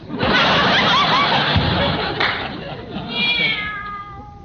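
A cat meows in a classic radio comedy scene, a drawn-out, wavering cry near the end under loud ongoing studio sound and audience noise.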